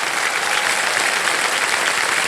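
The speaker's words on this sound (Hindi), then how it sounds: "तालियां बजते रहे इनके लिए।" Studio audience applause on a TV quiz show, Kaun Banega Crorepati, a dense, loud and continuous wash of clapping with no talk over it.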